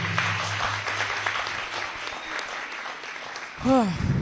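An audience at a Musabe School speech and debate program applauds in a broad, steady wash of many hands, fading near the end as a voice and a brief rising-falling tone cut in.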